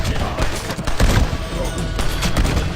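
Gunfire in the video game Red Dead Redemption: loud, close, dense shots and impacts crowding together over a few seconds with no clear gaps.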